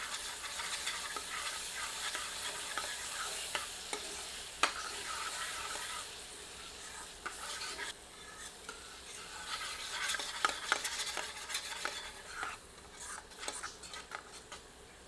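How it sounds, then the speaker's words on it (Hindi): A ladle stirs kasuri methi, rubbed between the palms, into masala frying in a pan for lauki kofte curry, making steady scraping strokes with light clicks over a continuous quiet sizzle. "एक बार अच्छी तरह करछी चलाते हैं।"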